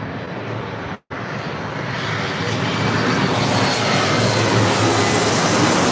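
A Delta Connection Embraer E175 regional jet roars steadily at close range, a loud broadband engine rush broken by one brief dropout before the noise builds and holds.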